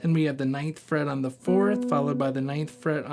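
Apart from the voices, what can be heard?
None of the usual background noises is heard.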